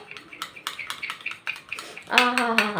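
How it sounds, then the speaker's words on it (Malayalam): Homemade face cream being mixed in a bowl, producing repeated light clinks and scraping taps in a quick rhythm, close by, with a louder ringing clatter near the end. "നന്നായിട്ട് മിക്സ് ചെയ്യണം കേട്ടോ"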